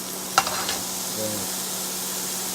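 Shrimp cooking in a pan, an even frying hiss with a sharp clink of a utensil against the pan near the start, then steady sizzling alone.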